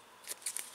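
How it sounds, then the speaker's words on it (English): Scissors snip loose embroidery threads on an in-the-hoop envelope card holder: three quick, faint, crisp cuts in rapid succession against near silence. "we're going to find our little threads here, pull them, and we're going to cut them"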